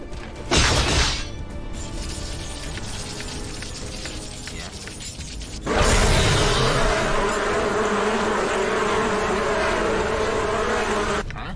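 An insect swarm in Planescape Torment buzzes loudly and densely, a brief burst followed by a steady, sustained drone that swells sharply midway and holds at full strength to the end.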